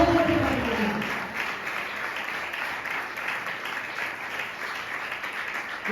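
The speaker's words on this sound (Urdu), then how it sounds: "زور سے کہیے ہاللویا, تالیاں بجا کے کہیے ہاللویا, تالیاں بجا کے کہیے" A church congregation applauds during a sermon, sustained clapping from many hands spread through the room, with mixed voices calling out under it.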